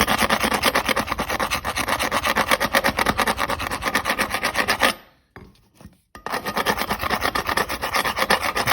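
Paint scraper rasping dried glue buildup off metal bar clamps in rapid, steady back-and-forth strokes, loud and close, with a brief pause midway before scraping resumes.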